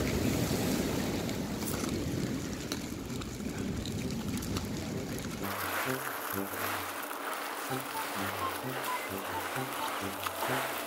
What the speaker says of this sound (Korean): 나는 왜 이렇게 파도 소리가 무섭지?